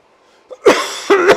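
Two harsh coughs from a person during an indoor Zwift cycling race, close and loud, with a brief pause between them.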